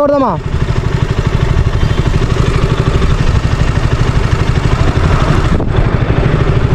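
Motorbike engines idle on a road trip stop, a continuous throbbing rumble held steady from start to end while people talk over it.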